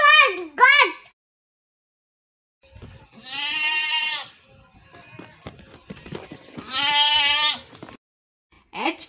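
A goat bleats twice in long quavering cries, spaced apart, between short bursts of a voice at the start and end.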